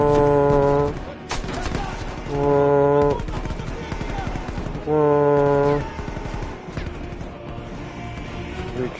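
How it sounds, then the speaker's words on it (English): An MP5 submachine gun in Call of Duty Black Ops Cold War fires in three loud, close bursts of rapid automatic shots, separated by short pauses, with game music and faint background effects between them. "MP5, baby. Feels good to shoot."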